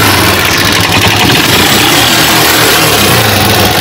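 Motorcycle engine running after a spark plug gap adjustment, a loud, steady idle with a continuous buzzing rumble and no talk.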